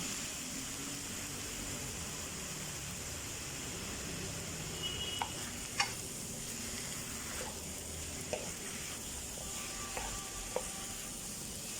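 Tomato sizzling and frying in a pan for a shrimp and 7Up dish, a steady hiss throughout with a few sharp clinks of a utensil against the pan.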